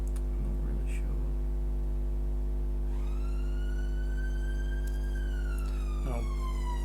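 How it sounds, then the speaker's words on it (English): A loud ambulance siren rises in a long wailing sweep, holds, then falls away, heard close over a steady low hum with a few faint scattered noises. "The normal sound of an ambulance in this country."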